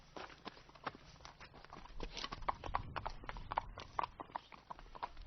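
Hooves of a ridden horse clip-clop steadily on a trail near Heihe, close and fairly loud, with a brisk walking rhythm and no talk over it.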